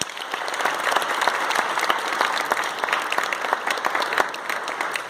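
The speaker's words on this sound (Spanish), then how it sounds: "un aplauso para él." An audience claps steadily for a participant at a handstand workshop, a dense, even round of applause lasting several seconds with no voices.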